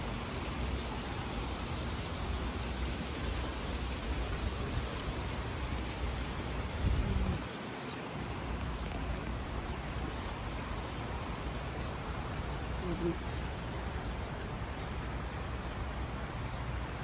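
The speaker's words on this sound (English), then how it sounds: "Oh, storm hitting." Thunderstorm with rain hitting a van in Alabama, a dense, steady hiss of rainfall throughout with a low rumble rising briefly midway, close and continuous.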